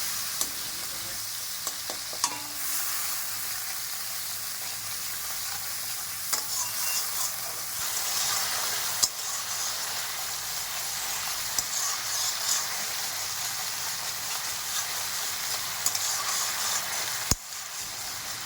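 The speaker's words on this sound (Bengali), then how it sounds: "জল দিয়ে মশলাটা ভালো করে কষিয়ে নেব" Spice paste loosened with water being stir-fried in a pan for a Bengali fish curry, a constant close sizzle and hiss with intermittent spoon scrapes and knocks.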